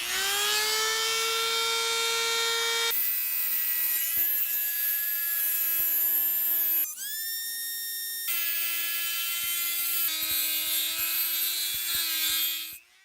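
A Dremel rotary tool grinds grooves into an old bolt, a loud high-pitched whine running steadily at close range, with brief shifts in pitch as the cut changes.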